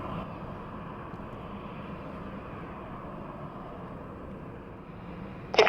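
Alaska Airlines Airbus A320 jet airliner at San Diego airport, bound for Portland, with a steady broad engine roar running throughout and a brief louder burst at the very end.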